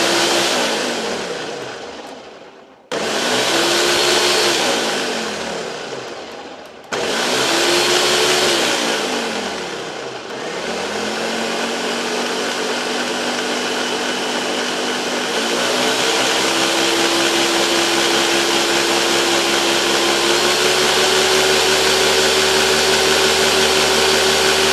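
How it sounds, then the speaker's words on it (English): A countertop blender purees stock liquid in loud bursts, starting and stopping twice before settling into a long continuous whirring run, motor pitch rising as it spins up. "And then we're just going to put this right here on our blender."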